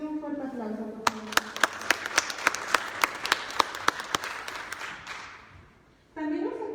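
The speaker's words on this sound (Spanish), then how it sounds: "para quien les pido un fuerte aplauso, por favor" An audience at a public talk in Huajuapan, Mexico breaks into applause with sharp, evenly spaced claps over crowd noise, fading out before a voice resumes speaking.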